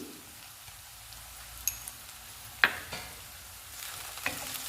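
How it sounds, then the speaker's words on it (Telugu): Coriander powder frying in a pan for egg rice, a low hiss with a few sharp spatula taps and scrapes against the pan, no talking. "ధనియాల పొడిని కూడా వేయించుకుందాము"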